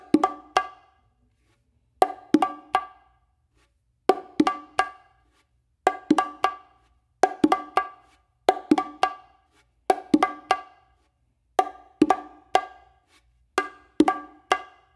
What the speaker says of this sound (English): a little flam, a crazy exercise on the bongos.